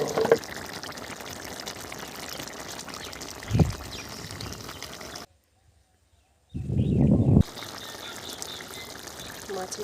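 Fish curry with ground spice paste simmering on very low heat in a pot gives bubbling, liquid sounds, broken by a short near-silent gap before the bubbling returns louder.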